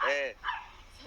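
A small dog barks and yips a few times in quick succession, loud and close, then trails off into quieter whimpering sounds.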